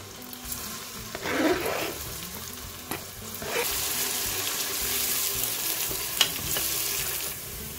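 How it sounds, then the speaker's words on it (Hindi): Steady sizzling of chopped onion frying in hot oil, with occasional stirring scrapes and clinks throughout. Close and moderately loud, no talking. "हाफ कप ऑयल ऐड करेंगे, 1 लार्ज साइज का मैंने चॉप प्याज इसमें ऐड किया"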